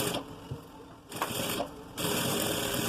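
A sewing machine stitches pajama-style shorts fabric in bursts of steady mechanical whirring, pausing briefly between runs and ending with a longer continuous stretch, close and moderately loud.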